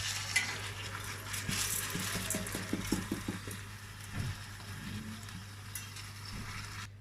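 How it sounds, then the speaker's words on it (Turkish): Soaked, rinsed rice is toasted in a hot pan with oil for pilaf, giving a soft continuous sizzle. A spoon stirs it in a quick run of rhythmic scraping strokes, with a duller knock later. No voice. "Pirinçlerim iyice tane tane olana kadar şöyle birbirinden ayrılana kadar pirinçlerimizi kavuralım."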